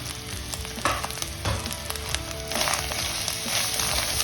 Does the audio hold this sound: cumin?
yes